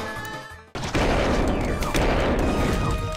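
Gunfire from a character in Rivals of Aether: after a brief gap, a dense, loud burst of crashing shots and impacts runs continuously for over two seconds, with game music fading underneath.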